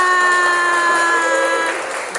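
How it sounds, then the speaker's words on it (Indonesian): Participants at a teacher training session applaud together, a loud clapping wash under a sustained tonal sound, likely music, that fades toward the end. "Oke, tepuk tangan untuk kita semua."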